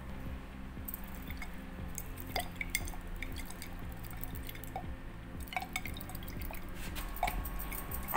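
Sugar being shaken in water to dissolve it during a primary-school science demonstration, heard as a steady run of soft liquid sloshes and small splashy drips throughout, close and fairly quiet.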